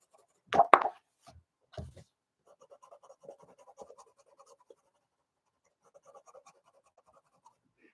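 Soft, scratchy strokes of colored pencil on a coloring book page, a few sharper taps at the start followed by quiet, steady shading strokes that fade in and out.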